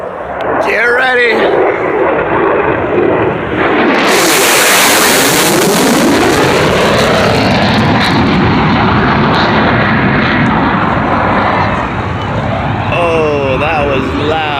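A Boeing EA-18G Growler jet roars overhead, building to a loud, close blast and then a long rumbling fade as it passes, with people talking and exclaiming around it.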